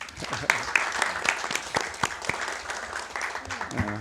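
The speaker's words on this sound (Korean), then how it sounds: "여러분 축하의 박수 한번 쳐주시고" Applause breaks out from attendees at a People Power Party leadership meeting: a spread of scattered, fairly close hand claps under a murmur of voices, thinning out near the end.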